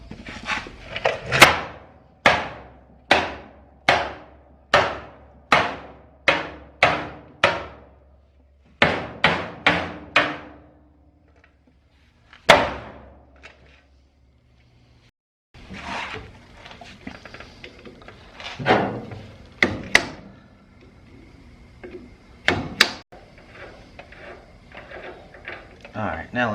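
Metal being hammered on an old trailer to beat out dents: a run of loud, sharp, evenly spaced blows with ringing decay, then pauses, scattered further strikes and some rustling handling noise, with speech mixed in.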